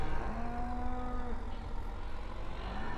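Cattle moo in a long, drawn-out call against a steady background hum of machinery in the farming video game Farming Simulator 15, on an Oklahoma farm map.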